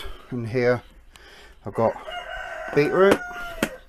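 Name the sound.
cockerel (rooster) crowing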